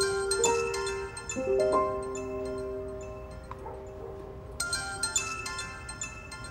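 A mobile phone rings with a bright melodic tone of repeating notes, moderately loud indoors with faint background noise and no talk over it.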